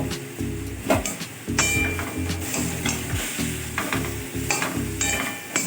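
Mustard paste and grated coconut being stirred in a hot pan: steady sizzling frying with repeated scraping strokes of a spoon against the pan in an uneven rhythm, close and moderately loud.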